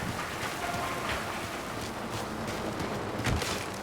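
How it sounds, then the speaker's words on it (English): Steady rain patters on surfaces in the video game Mafia, a soft continuous hiss with scattered droplets and faint wind, no voices. "It's raining."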